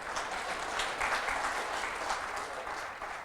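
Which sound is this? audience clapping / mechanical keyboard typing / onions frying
audience clapping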